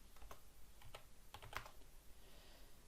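A computer keyboard is heard up close as the ifconfig command is typed into a terminal, giving a quiet, irregular run of individual key clicks.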